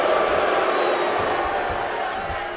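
Arena crowd noise from the wrestling video game WWE 2K20, a steady, loud roar of cheering that fills the whole clip without letting up, with a few faint thuds underneath during a Daniel Bryan versus Harper match.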